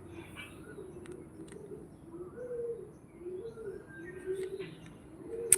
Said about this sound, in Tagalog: Ang ingay na pigeon ko.